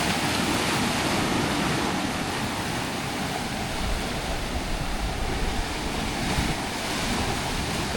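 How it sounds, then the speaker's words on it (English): Sea waves break along the rocky north coast of Trinidad near Fort Abercromby, a steady, full roar of surf mixed with wind rushing across the microphone, with no voices. "Look how beautiful the sea is looking."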